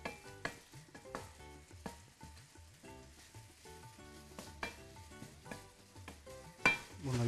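Mixed peppers sauté lightly in a pot for a chicken tas kebab, with a soft steady sizzle broken by repeated clattering stirs of a utensil against the metal, some of them sharp knocks.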